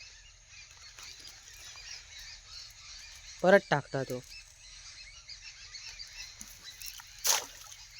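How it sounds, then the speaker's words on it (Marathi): Birds call outdoors near water during traditional fishing in Konkan: a quick run of loud honking calls mid-clip, then a single sharp cry, over a steady hissing background with some talk. "पक्ष्यांचा आवाज येतच असतो ऐका"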